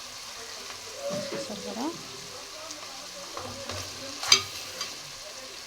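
Cauliflower and dried prawn curry is stirred in a frying pan, with gentle sizzling and a few scraping strokes of the spoon. A sharp clink comes near the end, and someone speaks a word softly.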